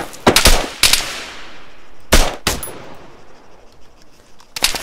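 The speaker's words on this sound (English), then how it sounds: "Getting shot at pretty bad." Gunfire in the ARMA 3 video game, several sharp bursts of automatic shots with echoing tails, spaced through the scene, loud and close with no talking.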